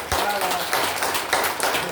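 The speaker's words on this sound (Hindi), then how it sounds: "जरा इनके लिए ताली बजा दीजिए" A group in a morning yoga class claps together in loud, continuous, broadband applause that fills the moment evenly, with a few voices mixed in beneath the clapping.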